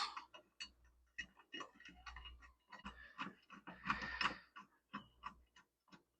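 A riding lawnmower blade is fitted back onto its star-pattern mount, with a run of close metallic clicks, taps and clunks as it is lined up and dropped into place, with no voices.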